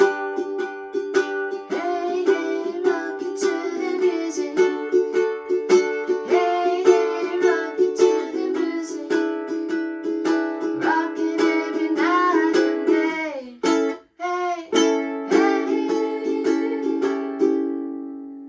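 Ukulele strummed in steady chord patterns, bright and close, with a brief pause for a chord change before the strumming resumes.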